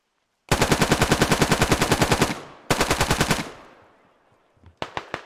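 Two long bursts of G3 battle rifle automatic fire in the military shooter SquadOps, loud and close with a steady rapid rhythm, the second burst ending in a fading echo before a few short shots.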